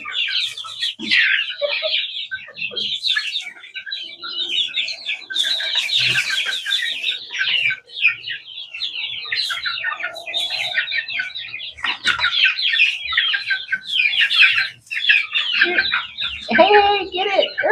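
A brood of around thirty young chicks clucks and cheeps continuously, a dense chorus of high peeps with some louder clucks, close and steady throughout.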